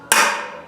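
A hammer delivers one sharp, ringing metallic strike to a manual impact driver set on a screw of an old-school GS pro street bike, loud and close, with the ring decaying over a fraction of a second.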